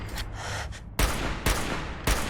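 Gunfire in Fallout 4, three loud sharp shots about half a second apart, each a hard crack following a muffled rumbling stretch.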